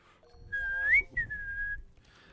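Close, clear whistling: a rising note that peaks and breaks, then a second long tone gently falling away, alone over faint low background rumble.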